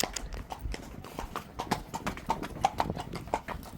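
Horse hooves clip-clop steadily during a horse ride in Kodaikanal, a brisk, even rhythm of crisp hoof strikes heard fairly close but quietly.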